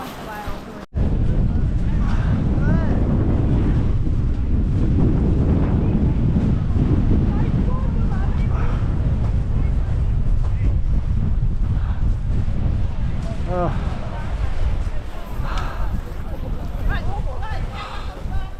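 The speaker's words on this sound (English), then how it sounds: "It's windy today, let me tell you." Strong wind buffets the microphone during a hike on Sólheimajökull glacier on Iceland's south coast, a steady loud roar that runs almost unbroken, with a person's voice partly buried beneath it.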